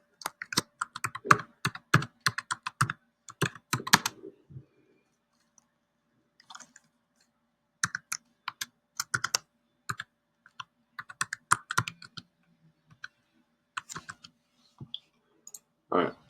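Computer keyboard typing in bursts of rapid clicking keystrokes, with pauses between runs; close and fairly quiet, with no talking over it.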